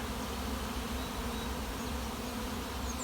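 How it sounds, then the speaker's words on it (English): A honeybee swarm that has just left the hive flies in the open, a dense, steady buzzing hum of many insects holding at an even level with no voices. "The swarm is now behind me over here."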